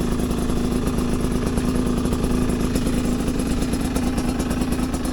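A Chinese dirt bike engine runs steadily close by on a first ride, a continuous mid-pitched idling drone with a light clatter and no talk over it.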